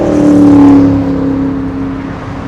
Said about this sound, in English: And a loud pickup truck passing right below us pretty quickly.